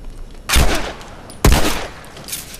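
Two sharp gunshots in The Last of Us Remastered video game, about a second apart, each followed by a short ringing decay, with a fainter third burst near the end.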